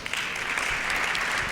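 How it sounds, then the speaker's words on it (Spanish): Audience applause at a live panel event in Mérida, Yucatán: steady, dense clapping from a crowd, loud and continuous throughout with no pauses. "Un aplauso o algo, ¿no?"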